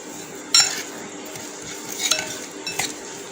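A spoon clinks and scrapes against a bowl while fish marinade with vinegar is mixed, a few sharp knocks among softer stirring sounds, close and with no talking.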